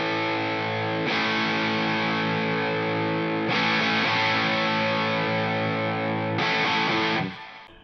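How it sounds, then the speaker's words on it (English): Electric guitar played through a dual overdrive pedal with the drive knob being adjusted, sounding as sustained distorted chords struck three times, each ringing out loud and steady before fading at the end. "So I'm messing with my drive knob here, and I'm not really adding any gain."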